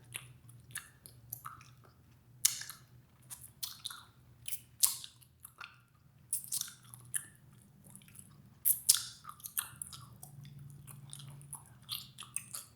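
Gum is chewed up close to suck the sugar out, giving wet, squishy smacks and soft bites in an irregular rhythm, fairly quiet with no talking.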